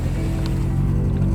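Nissan 240SX engine revving freely with a couple of quick throttle taps, a loud, steady low rumble filling the moment without speech.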